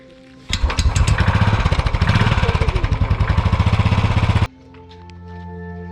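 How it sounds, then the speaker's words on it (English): A motorcycle engine fires up and runs with a rapid, loud pulsing chug for several seconds, then stops, leaving a quieter background hum. "Next morning, our first work was to start and warm up our motorcycle."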